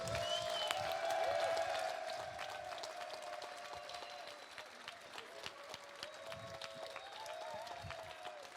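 An award ceremony audience at a rescue challenge applauds steadily, a dense wash of clapping that stays moderately loud and slowly thins, with faint voices and background tones mixed underneath.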